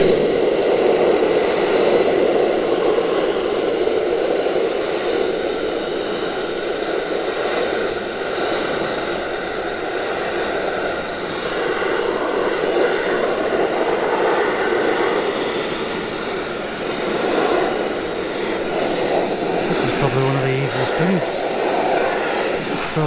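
Steel being sandblasted with glass bead media, the media feed set too high: a loud, steady roaring hiss of blasting air that runs continuously throughout, close to the listener, with no voices.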